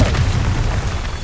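Confringo spell explosion in Hogwarts Legacy, a loud, close, low booming blast that rumbles for about a second with no talk.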